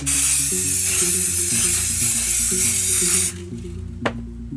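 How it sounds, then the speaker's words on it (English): A steady aerosol spray of clear coat hisses for about three seconds over background music, then cuts off, followed by a small click. "I'm going to spray this down with a little clear coat, re-wet the paint"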